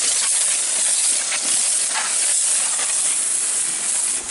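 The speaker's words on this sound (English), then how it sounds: "So, we'll give these a good rinse." A strong water spray rinses chink stones for a timber and stone wall, a loud, steady hiss close by that runs the whole time with no talking.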